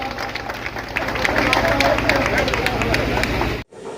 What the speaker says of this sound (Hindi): आप लोग जोरदार तालियों से एक बार।